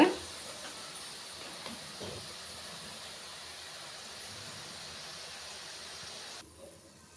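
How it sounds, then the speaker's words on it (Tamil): Cauliflower florets for crispy cauliflower 65 deep-frying in hot oil, a steady close hiss and bubble that holds evenly before dropping away near the end, with no talk. "காலிஃப்ளவரை கொஞ்சம் கொஞ்சமாக ஃப்ரை பண்ணிவிடுங்க."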